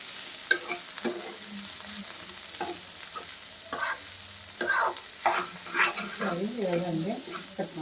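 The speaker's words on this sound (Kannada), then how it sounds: "ಬಟಾಣಿ ಮಿಕ್ಸ್ ಮಾಡ್ತಾರೆ." Peas stirred and fried in a pan while food is cooked for a wedding, with a steady sizzle under repeated scraping strokes of the spoon that grow busier toward the end.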